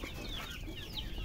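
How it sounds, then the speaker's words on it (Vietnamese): Farm chickens let out a few short, rising clucks at moderate distance over a soft outdoor background while eggs are being gathered. No voices are heard. "Các bạn gà ơi, đi ra đây là."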